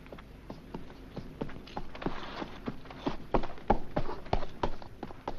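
Horse hooves clip-clop on the ground in a quick run of sharp, uneven strikes, fairly close and growing louder near the end, with no talk over them.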